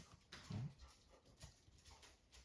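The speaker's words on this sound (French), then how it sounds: "Avec toujours le chien qui gambade autour." A dog moves about a home kitchen while a potato is peeled for a hachis parmentier, giving soft panting, faint whimpering and light shuffling footsteps close by, fairly quiet and without speech.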